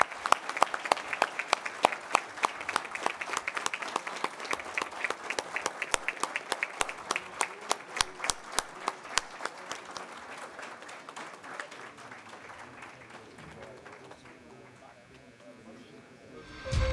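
Applause from the audience closing a formal ceremony in a legislative chamber, with sharp, rhythmic individual claps over a crowd that gradually thins and fades toward the end.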